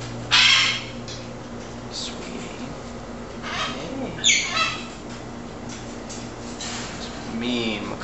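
A hyacinth macaw gives a few loud squawks and calls in bursts, close by, with quieter stretches in between and a person talking around them.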